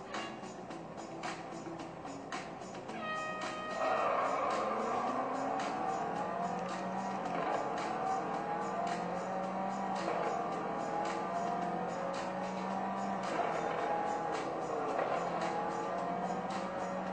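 Race cars in the Real Racing 3 game on an iPad 4 during a one-on-one race: a steady engine drone that climbs and falls through gear changes, rising in pitch, with faint tire noise and no talking.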